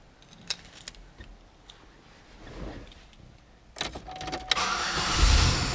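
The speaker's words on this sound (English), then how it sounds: "Car fires right up. Runs great, nice and strong, nice and smooth." A Chevrolet Impala's engine cranks, fires and settles into a steady idle, up close. Quiet clicks and handling noises come first, then the start, then a rising, continuous engine rumble with no talk.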